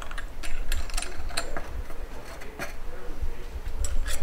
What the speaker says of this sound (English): now with a 28mm socket wrench or pipe wrench like this one, you can turn or start turning